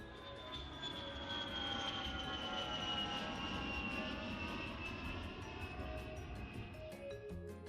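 An airplane in flight gives a continuous engine roar with a high whining tone that slowly falls in pitch, steady and moderately loud throughout.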